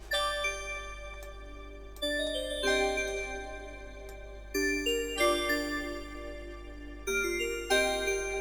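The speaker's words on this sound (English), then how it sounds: "So we've got a bell sound open." Bright synthesized bell chords from the Massive synth's Ice Bell sound ring out in repeated phrases, each strike sustaining with a shimmering, glassy tail, played alone without voices.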